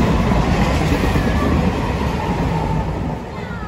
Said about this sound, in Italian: C'era il treno.